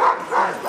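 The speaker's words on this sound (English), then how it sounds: "there's a lot of whining from the dogs that aren't going" Sled dogs at a Denali National Park kennel whine and bark in a short, close burst, a continuous restless racket from the dogs left waiting.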